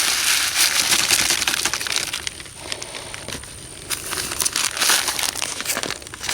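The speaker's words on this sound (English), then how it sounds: "Now I got a Ziploc bag full of oats" A Ziploc bag full of oats is squeezed and handled up close, giving steady crinkling and crunching of plastic and grain with no talk.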